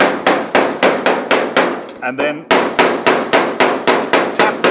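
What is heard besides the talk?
hammering heated car body metal on a 1936 Terraplane coupe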